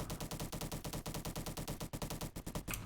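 Rapid, continuous automatic fire from the SM-03 gun in the Roblox game Bad Business, an even stream of shots close and loud for nearly three seconds with a short break near the end.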